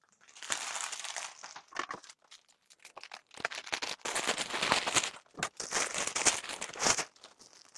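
Parcel being torn open by hand, with loud close crinkling and crumpling of plastic packaging in irregular bursts and short pauses between them.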